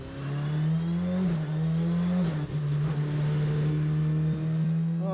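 A GTC race car at Zwartkops Raceway, back out after a repair, roars past at close range with a loud, sustained engine note that holds steady pitch with brief dips, and no voices over it.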